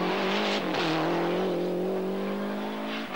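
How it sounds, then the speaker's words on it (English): A 1991 European Rally Championship rally car on a special stage of the Rally of Poland, its engine holding a loud, close, sustained drone with a brief dip in revs near the start, then steady pulling throughout. "Snijers still going well despite the bodywork"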